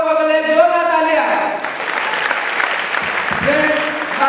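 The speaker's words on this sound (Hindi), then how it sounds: "तो आप लोगों के लिए जोर से तालियां।" An audience at an achievers' event breaks into loud, sustained applause, beginning under the end of a voice and then filling the room as a dense wash of clapping, with some speech returning near the end.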